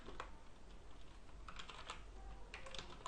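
Light tapping of keys on a computer keyboard while a banking password is entered, in quiet, faint bursts of several keystrokes with short pauses between them.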